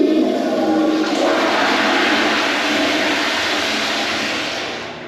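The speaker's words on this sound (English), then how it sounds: "Now that is a power flush." A campground restroom toilet gives a powerful flush, a loud, close rush of water that holds steady for several seconds and then starts to ease off, with no one talking.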